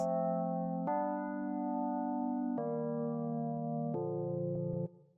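Mellow Rhodes electric piano chords, held for a second or two each, changing four times, with a few quick repeated stabs at the end before it cuts off.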